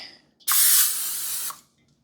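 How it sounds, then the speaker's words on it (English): A single short hiss of cooking oil spray, about one second long, close and loud in an otherwise quiet room. "I want to spray them again."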